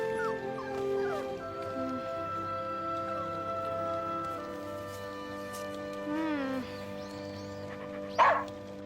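A dog whimpers and yips in a series of high, wavering whines and short cries, fairly close, ending in one sharper yelp, with faint background ambience.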